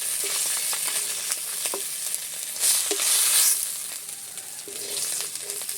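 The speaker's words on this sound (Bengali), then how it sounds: "সব মাছ ভাজা হয়ে গেছে।" Small Japanese puti fish, bellies full of roe, sizzle steadily in hot oil, a dense continuous crackle with a brief louder surge midway, close and alone with no voices.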